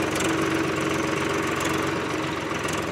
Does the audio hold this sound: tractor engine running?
yes